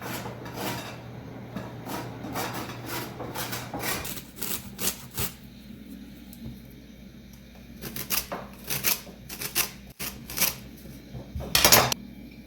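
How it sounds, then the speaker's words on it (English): Lemon zest is grated by hand in a home kitchen while making lemon meringue pie. Short, scratchy rasping strokes come in irregular bursts with quiet gaps between them, close and moderately loud. "I'm going to grate some a lemon here"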